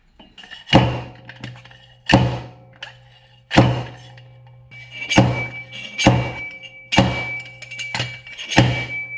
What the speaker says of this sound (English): when it gets to be a real sharp clang, that means you're not moving anything anymore